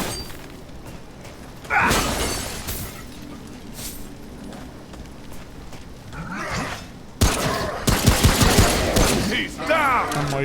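Gunfire in the video game Remnant: bursts of shots with clattering impacts, loudest near the start and again in a dense flurry toward the end over a steady game ambience.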